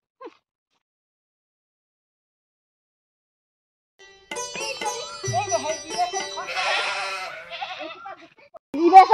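A domestic goat bleats in wavering cries after a few quiet seconds, close and fairly loud, with people talking around it.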